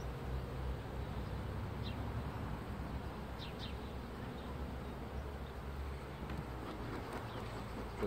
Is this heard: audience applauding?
no